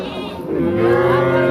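A Friesian bull calf moos once, a close, loud drawn-out bellow that rises and holds to the end.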